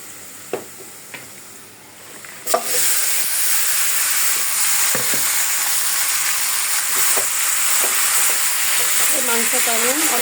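Beef sizzles and hisses steadily in a hot pan over nearly done onions, starting after a few sharp knocks and clinks, with a loud continuous frying wash filling most of the stretch.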